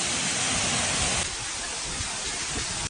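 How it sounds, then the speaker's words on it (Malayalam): A monsoon-season waterfall at Edavanna in Malappuram, heard as a dense, steady roar of rushing, splashing water that softens slightly partway through and continues without a break. "മഴക്കാലത്ത് മാത്രം കാണുന്ന ഒരു വെള്ളച്ചാട്ടം"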